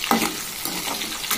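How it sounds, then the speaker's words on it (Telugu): Chopped onions fry and get stirred in a pan for a Rayalaseema-style sambar, giving a steady close sizzle with brief scraping stirs. "కట్ చేసి ఉంచుకున్న ఉల్లిపాయలు బాగా దోరగా వేగాలి."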